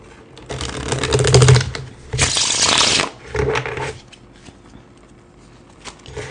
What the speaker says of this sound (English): I'm going to pull some tarot cards now.